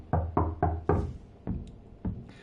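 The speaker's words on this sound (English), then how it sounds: "Start knocking before the next song begins." Knocking on a door in the video game Rue Valley: six heavy, close knocks, the first four quick and evenly spaced, then two slower ones after pauses.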